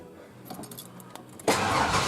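A 1995 Ford Ranger's 4.0 engine, fitted with new headers, cranks briefly and then catches, bursting into a loud, broadband roar that holds steady to the end.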